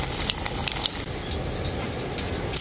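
Potatoes fry in hot mustard oil for a mutton curry, crackling in a dense, close sizzle with tiny popping spatters throughout.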